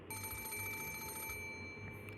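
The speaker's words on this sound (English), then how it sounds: "the piercing sound of a phone rang through the room" An old telephone bell rings loudly through a room in a visual-novel game scene, a sustained metallic trill that cuts off abruptly partway through.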